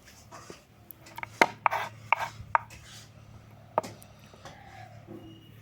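A very sharp knife cuts carrots into small pieces on a board, giving about half a dozen crisp, close chops at an uneven pace with soft scraping between them and no talking.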